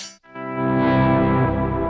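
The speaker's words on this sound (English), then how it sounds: "only hearing the reverb, just so that we know what sound we're actually going to add to our drive signal" A swelling ambient reverb from a Jet Pedals Revelation pedal blooms after a brief cut, sustaining a dense, washy tail with many layered tones, loud and alone with no talking.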